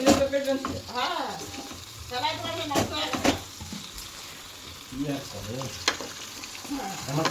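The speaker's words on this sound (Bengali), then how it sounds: "মাংস কষানো চলছে" Chicken frying with spices and potatoes in a pan, an ongoing sizzle and stirring scrapes heard beneath nearby people talking.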